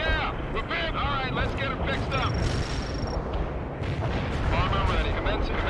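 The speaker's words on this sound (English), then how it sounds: "That artillery is just the worst. It does so much damage." Artillery shells strike during a World in Conflict battle, heavy rumbling booms and explosions rolling continuously across the whole stretch, loud and dense, with someone talking over the bombardment.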